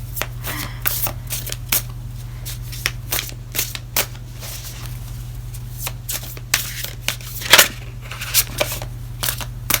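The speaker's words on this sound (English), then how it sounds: "I'm going to shuffle it up, and we're going to see what comes out" Tarot cards are shuffled repeatedly up close, quick papery riffles and slaps in irregular bursts over a low steady hum.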